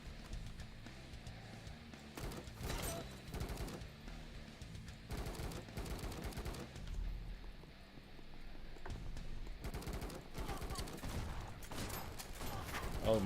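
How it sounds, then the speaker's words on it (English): Rifle shots in the video game Kinki Spiritual Affairs Bureau fire in irregular, fairly quiet repeated bursts throughout, under a steady low background. "Switch to the rifle, please."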